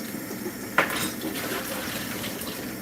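Running water splashes over dishes with a sharp clink of a utensil early on, close by and steady.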